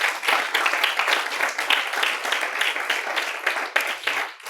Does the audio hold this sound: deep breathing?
no